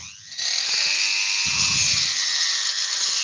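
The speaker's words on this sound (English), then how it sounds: "I think my Dremel's about to give up the ghost." A Dremel rotary tool that seems close to failing runs steadily and loudly after a brief start, with a sustained high whine throughout and some low rumble partway through.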